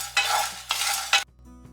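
Dried red chillies and chana dal heat in a pan with two or three bursts of stirring and scraping sizzle, each about half a second. The sound then cuts off to near silence.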